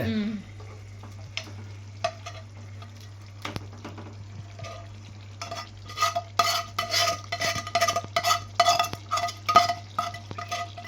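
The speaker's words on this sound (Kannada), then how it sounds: "ಇದ್ರ ಮಿಕ್ಸಿಂಗ್ ಮಾಡ್ತೇನೆ ಅದನ್ನೀಗ" A spoon stirs and mixes country chicken gravy in a pan with steady scraping and clinking that grows busier and louder in the second half, over a constant low hum and a soft simmer.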